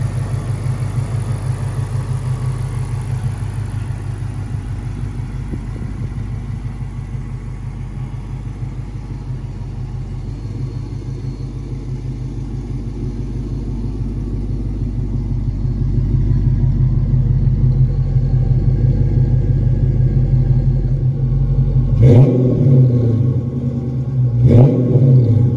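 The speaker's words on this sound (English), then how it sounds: "Really smooth running Hemi, no ticks, no taps." A 2007 Dodge Magnum SRT8 with a 6.1 Hemi V8 and 48k miles idles with a smooth, deep, even rumble, swelling slightly, then blips twice in quick, loud revs near the end.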